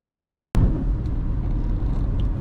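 A rented car driving on a road in Kamchatka: after a moment of silence, a steady, close, low road rumble and engine drone set in and continue without letup, with no talking.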